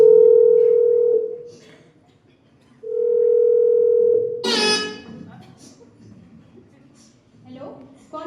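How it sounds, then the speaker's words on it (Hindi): Telephone line tone during a college nursing skit for Women's Day: a steady dial tone sounds twice, each time for over a second, then cuts off into a sharp burst of noise and murmured voices. "उसने हिम्मत से फोन उठाया, नंबर डायल किया"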